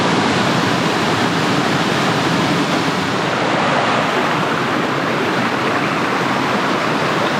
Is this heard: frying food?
no